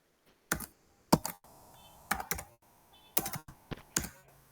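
Fingers type code on a computer keyboard in short, uneven bursts of crisp, close key clicks with brief pauses between, loud and alone without talking.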